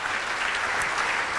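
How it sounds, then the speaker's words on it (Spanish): A congregation applauds during a church service, a steady wash of many hands clapping at once, even and continuous, moderately loud and without speech over it. "Dele un fuerte aplauso al Rey."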